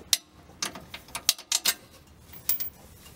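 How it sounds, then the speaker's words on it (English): A ratchet clicks in short, close bursts of a few sharp ticks as it backs out the exhaust pipe bolts on a Nissan 350Z, with small pauses between strokes and a quiet background. "Pulling all these bolts out."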